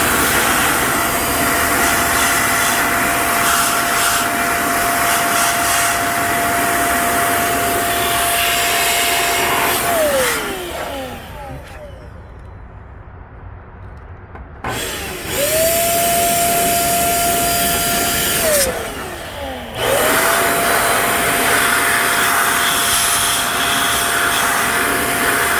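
A small handheld air blower roars with a steady high-pitched jet-like whine while blowing dust out of a PC, cutting off twice and spinning down and back up between long loud runs.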